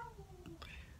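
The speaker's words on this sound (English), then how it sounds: "That's a cat fight." Cats fighting outdoors give a brief, faint yowl, a rising, wavering cry over low background noise.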